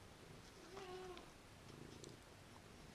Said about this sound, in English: Oh, I've got a cat on me now.